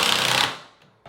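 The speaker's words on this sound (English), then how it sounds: "I am going to put 3 screws in at the location of each hinge." Close power-driver whir driving a screw into a flat door jamb at a hinge: one steady high burst that winds down and stops, then a brief knock at the end.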